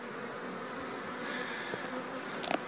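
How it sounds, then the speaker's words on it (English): A swarm of bees buzzes steadily around a porch during a bee removal, a dense continuous drone close by with individual bees briefly passing nearer, and no talking. "And a whole bunch of bees."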